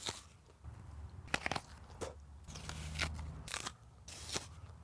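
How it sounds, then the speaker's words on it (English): Apples being tested for apple breeding are bitten and chewed, giving a series of close, sharp crunching snaps with chewing between them. The bites are spread irregularly over several seconds. "Every day, Bedford bites, chews, and spits between 500 and 600 apples."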